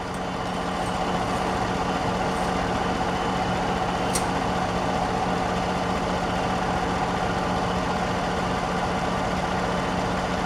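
A 2014 Chevrolet Silverado truck idles while warming up, its engine giving a steady, unbroken low drone that stays even and close throughout, with no voices.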